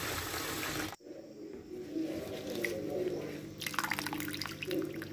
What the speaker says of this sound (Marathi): मला परातीत नीट केलेली भाजी मी घेतली आणि व्यवस्थित स्वच्छ अशा प्रकारे धुवून घेतली